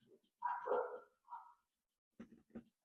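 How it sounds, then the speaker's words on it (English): Several dogs bark indoors, giving a few short, fairly faint barks and yips in two brief bursts separated by a pause. "All my dogs are barking, of course."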